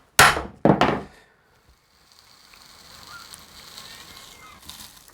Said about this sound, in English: The MDF is actually splitting where I'm lifting the ply.